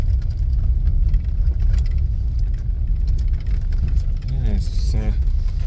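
A car fitted with MAXLOAD air suspension rumbles along on a test drive, a steady low road and engine drone throughout, with voices speaking briefly near the end.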